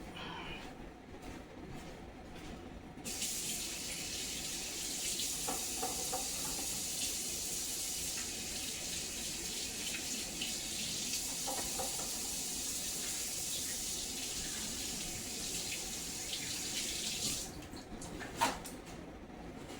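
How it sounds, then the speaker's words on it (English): Tap water runs steadily into a sink as hands are washed, a continuous broad hiss lasting about fourteen seconds with no talking, ending in a brief clatter. "Let me go wash this brown stuff off of my hands."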